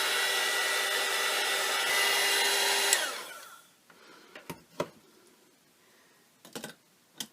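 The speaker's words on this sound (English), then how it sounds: "I'm going to chase it around with the hairdryer," Hairdryer heat tool blowing steadily over an art journal page, a loud continuous whoosh for about three seconds that cuts off, followed by faint scattered clicks and taps.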